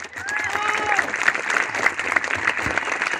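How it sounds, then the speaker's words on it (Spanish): Audience applause at a bull-riding rodeo tournament in San Isidro, Oaxaca, a sustained crowd clapping with cheers, a loud voice over a PA speaking over it. "Quiero que me regalen el aplauso a la monta que consideren más lucida, más espectacular."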